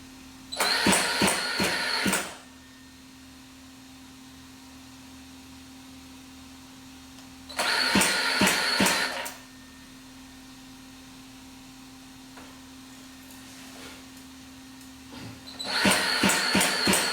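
A Zenoah G320 gasoline engine fitted with an electric onboard starter cranks in three separate bursts of a second or two each, with a steady electrical hum between attempts.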